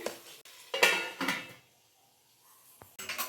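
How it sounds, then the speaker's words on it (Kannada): A utensil stirs crab in masala in a cooking pan, producing a few close metallic scrapes and clanks in short bursts separated by a brief quiet pause. "ಮಸಾಲೆ ಜೊತೆ ಕ್ರ್ಯಾಬು ಸೇರೋ ರೀತಿ ಮಿಕ್ಸ್ ಮಾಡ್ಕೊಂಬಿಡಿ"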